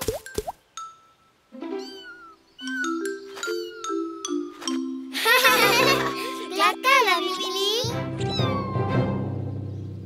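A cat meows several times in short, rising cries, heard close and clear among children talking and playing nearby.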